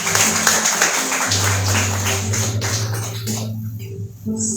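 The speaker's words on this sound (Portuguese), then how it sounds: "Aplaude ao Senhor Jesus" Church congregation applauding: a dense, steady wash of clapping fills the room, loud and continuous, thinning out toward the end with faint voices underneath.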